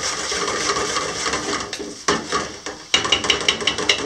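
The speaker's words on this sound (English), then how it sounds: "We just want to sweat the onion." Onion sweating gently in a pan for an Indian white gravy, with a soft, continuous frying hiss and a series of close spoon scrapes and light clinks against the pan that sharpen toward the end.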